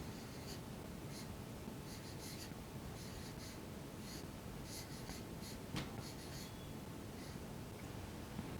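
Marker or chalk writing on a classroom board during a maths lesson, a run of short scratchy strokes in uneven bursts over a steady faint room hiss, fairly close.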